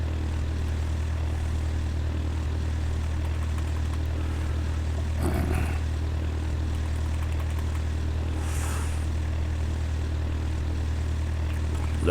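A small propeller airplane taxiing on the ground, its engine a steady low drone throughout with a couple of brief louder rushes midway, heard close from inside the cockpit without talk.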